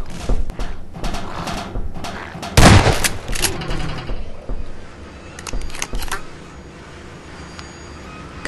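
Shotgun blasts at zombies in Half-Life 2: loud repeated booming shots, one especially heavy burst, with clattering game noise between them.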